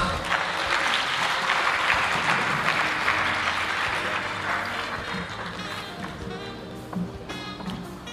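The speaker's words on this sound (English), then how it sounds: "A big round of applause." Applause from a lecture audience fills the hall at the Thabo Mbeki Africa Day Lecture, a dense wash of many clapping hands that gradually thins toward the end, with faint voices underneath.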